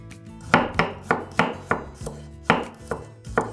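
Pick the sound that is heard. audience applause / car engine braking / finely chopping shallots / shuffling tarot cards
finely chopping shallots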